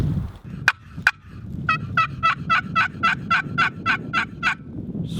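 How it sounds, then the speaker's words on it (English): A Bone Collector box call (Soggy Bottom) gives two sharp clucks, then a steady run of about a dozen raspy turkey yelps, close and loud with no talk. "This is the soggy bottom bone collector box call"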